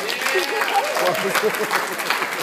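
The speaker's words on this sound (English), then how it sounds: "Applause." Wedding guests clap after a best man speech, a steady patter of hands filling the room at close range, with voices chattering over it throughout.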